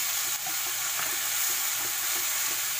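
Chopped coriander stems fry in a pan for American chopsuey, giving a steady, even sizzle throughout with faint stirring scrapes and no voices.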